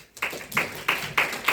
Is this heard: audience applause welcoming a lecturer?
yes